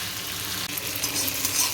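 Pasta ingredients fry in a pan with a steady, close, loud sizzle that crackles continuously with no pause.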